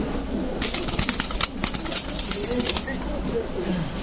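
A large, huge-sized female Grizzle Lahori pigeon coos softly amid a busy, noisy pigeon-market background, with brief flutters of wings and nearby voices.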